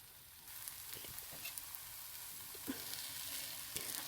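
A spicy desi pancake fries in oil in a pan, giving a soft, steady hiss and crackle throughout with small pops here and there, faint and even.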